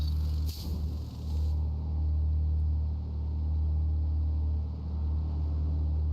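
Low, steady GT3 race car engine rumble in the game GT Sport at Circuit de la Sarthe at night, a droning hum, a brief bright whoosh near the start, then a continuous vibrating growl with no voices.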